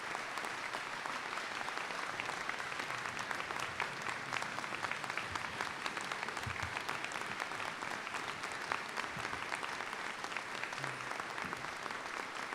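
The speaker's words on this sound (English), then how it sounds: "Let's have a big round of applause for the president of Kaskaskia College" Graduation crowd at the Kaskaskia College commencement applauds the college president, a sustained, fairly distant wash of many hands clapping without pause from start to finish.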